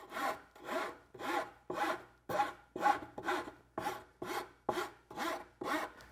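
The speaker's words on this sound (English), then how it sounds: "with the rasp, you can get pretty quickly, you can start to shape that smooth curve" A rasp shapes a smooth curve into a wooden edge in about eleven steady, evenly spaced strokes, each a loud, close, coarse rubbing scrape with brief gaps between, heard alone without talk.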